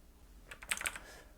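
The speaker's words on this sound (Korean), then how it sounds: "커맨드 D키를 눌러서 다른 위치에도 필요하다면 이와 같이 넣어 주시면 됩니다." Several quick key presses on a Mac keyboard, typing the Command D shortcut while working in Keynote, a short cluster of close, crisp clicks.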